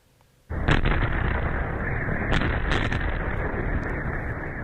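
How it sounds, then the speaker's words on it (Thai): After a brief quiet moment, a sudden loud blast on a road in Russia's Kursk region, caught by a security camera, erupts into a sustained roaring rumble that persists, with a few sharp crackles along the way. "กล้องวงจรปิดได้บันทึกภาพแสงจากการระเบิดบนถนนในภูมิภาคคูสของรัสเซีย"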